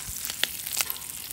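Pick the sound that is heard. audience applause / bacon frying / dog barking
bacon frying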